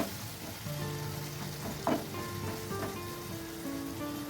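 Raw banana and green bean curry is stirred in a pan after a little water goes in, producing a soft continuous sizzle and bubbling with a brief scrape of the spoon near the middle.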